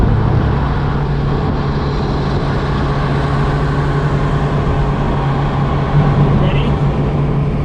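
Turbocharged and supercharged Mazda Miatas rumble steadily in a loud, continuous engine drone, heard from inside the car under a brief spoken exchange.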